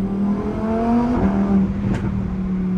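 A 2021 Lamborghini Huracan EVO on the move, its engine droning steadily with a rising rev and sharp exhaust snaps and pops around the middle, heard close from the cabin.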